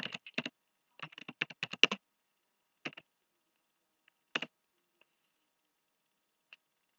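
Bursts of computer keyboard typing as a folder name is entered, quick clustered key clicks in short runs, then sparse single taps with silence between, close and fairly quiet.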